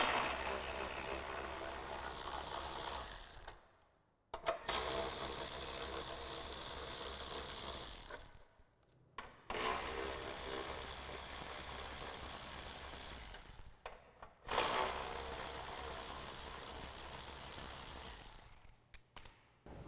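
Ratcheting removal of the 8mm bolts holding the fog light bracket on a 2015-2017 Ford F-150 front bumper, heard as steady close clicking in several long bursts with short pauses between them.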